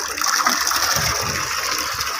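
Water gushing steadily from the pipe of a 12V solar motor pump, with a continuous rushing flow close by and no talking.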